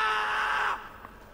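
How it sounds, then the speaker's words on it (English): A person screams in one sustained, strained shriek lasting under a second, loud and close, then breaks off into quiet background. "Why are you screaming?"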